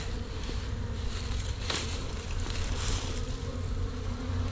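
Honeybees swarm over a brood frame as it is moved into a hive, giving a continuous close buzzing drone that stays fairly even throughout, with no talking.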